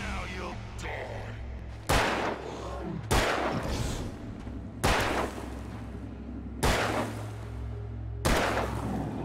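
Gunshots in a video game, five loud, evenly spaced booming shots roughly two seconds apart, each followed by a decaying tail over a low background hum.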